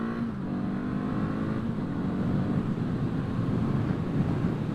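A 2024 Kawasaki Eliminator motorcycle engine accelerates on the road, a smooth steady drone that rises slightly in pitch, heard close and continuous under some wind noise.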